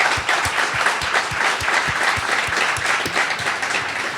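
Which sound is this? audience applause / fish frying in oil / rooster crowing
audience applause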